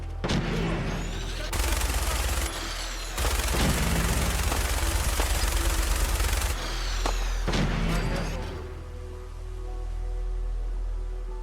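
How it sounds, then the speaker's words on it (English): Gunfire in Fallout 4 during a fight with raiders, long rapid bursts of automatic fire with booming shots, loud and continuous with brief pauses, ending in a quieter rumbling tail. "Opening fire."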